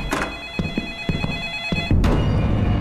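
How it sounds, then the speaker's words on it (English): An in-game telephone rings with repeated electronic bursts in a quick rhythm, fairly loud and close, with no talking over it. "A phone again?"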